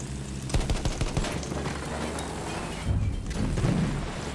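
Aircraft machine gun strafing in Battlefield 1 rattles in rapid bursts of close, crackling gunfire over a steady engine drone, with a second heavier burst near the end.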